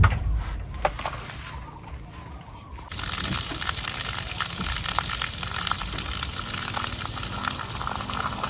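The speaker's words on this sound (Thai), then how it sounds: "น้ำจากปั๊มสามร้อยวัตต์นะครับ" Water gushes steadily from a two-inch pipe fed by a 300 W solar-powered pump lowered 20 metres into a borehole, a loud continuous rushing that surges up sharply after a quieter opening few seconds, with no talk.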